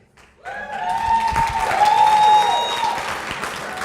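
Loud applause breaks out suddenly and keeps going, with whoops and cheers rising over the clapping from a crowd at a university hall of honor ceremony.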